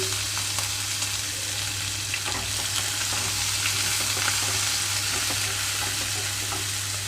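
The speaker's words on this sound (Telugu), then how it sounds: "పచ్చిమిరపకాయలు ఉల్లిపాయలు సాఫ్ట్ కలర్కి వచ్చే వరకు వేయించుకుంటున్నాను" Chopped onions and green chillies sizzle in hot oil over an already-fried spice tempering, for an amaranth leaf (thotakura) fry: a loud, dense, continuous frying hiss with faint stirring ticks throughout, and no voices.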